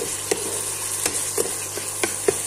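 A spoon scrapes and stirs paneer butter masala in a frying pan, with a low steady simmer underneath and soft, evenly spaced knocks roughly every half second, close and fairly quiet.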